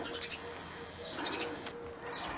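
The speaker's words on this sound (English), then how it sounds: "There's a little baby bird up there." Soft cooing from a baby dove in a nest up in a planter area outdoors, faint and intermittent against background noise, with faint talk at times.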